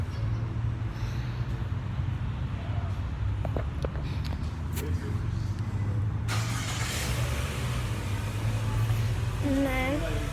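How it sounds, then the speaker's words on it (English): A new car's engine is switched on and keeps running with a steady low rumble that grows brighter partway through, while people talk nearby. "Turn the car on."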